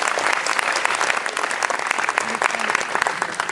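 A dense, steady round of applause from a crowd, many hands clapping continuously at a strong level.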